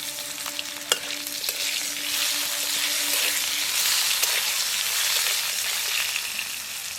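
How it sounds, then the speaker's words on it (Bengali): Raw mango pieces sizzle and fry steadily in hot oil with a bay leaf and green chillies, a continuous close crackle with occasional stirring clatters and no talking. "এখন এর মধ্যে আমের টুকরোগুলি দিয়ে ভালোভাবে ভেজে নেব।"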